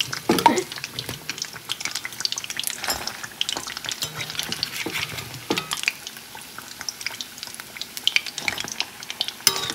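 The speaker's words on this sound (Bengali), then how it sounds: "তো সবগুলোই এইভাবে ভাজা করে নেব।" Puffed snacks frying in hot oil, a close, busy crackle and bubble with irregular clicks and scrapes of utensils against the pan, steady throughout.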